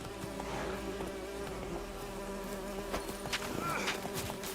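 Bees buzzing in The Witcher 3: Wild Hunt, a steady insect drone with several overlapping hums that carries on through the whole stretch at moderate level, no talking.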